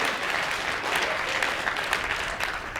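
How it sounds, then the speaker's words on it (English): Seminar audience at a self-improvement summit applauds a man onstage, a dense, even wash of many hands clapping steadily from start to finish. "Let's give this man a round of applause."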